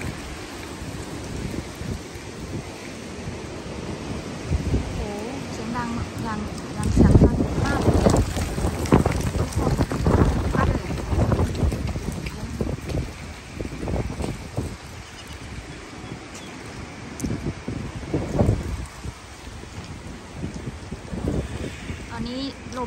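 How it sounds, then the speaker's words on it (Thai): Strong gusting wind on a changeable day in Auckland rushes through trees and leaves, a loud continuous roar with swelling gusts that buffet the microphone. "ลมแบบลมนะคะพลังลมพัดต้นไม้ใบไม้เสียงดัง"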